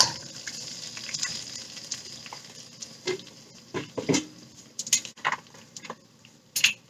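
Gochujang chili sauce and tomato sauce sauté gently over low heat in a pan, a soft sizzle under scattered clinks and scrapes of a utensil against the pan.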